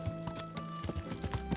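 Horse hooves in Kingdom Come: Deliverance as the rider heads toward bandits, a quick steady clip-clop rhythm of hoofbeats at moderate distance, fairly soft, over a low hum.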